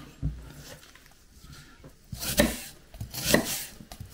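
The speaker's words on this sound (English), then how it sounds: "So next we start prepping the onions. And just simply straight down the middle." A sharp knife chops onions on a board in a rural French kitchen, with a few soft cuts followed by two louder bursts of chopping strokes up close.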